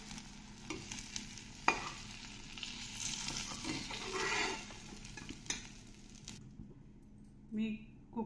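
Brinjal pieces fry in oil with a dense, steady sizzle, broken by occasional spatula knocks and scrapes. The frying stops abruptly near the end, and a brief voice follows in the quiet.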